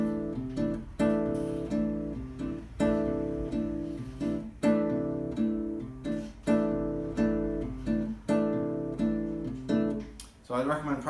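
An acoustic guitar plays a steady bossa nova pattern on a C6/9 chord, the first strike of each bar landing slightly early, giving a flowing, syncopated run of plucked chords that sounds close and unaccompanied.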